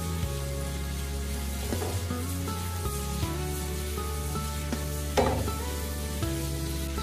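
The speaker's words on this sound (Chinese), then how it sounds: "接下来再开大火翻炒均匀" Bitter melon stir-fried over high heat in a wok with salt, chicken boustock powder, oyster sauce and soy sauce, giving a steady sizzle with a few scraping clinks of a spatula, heard alone.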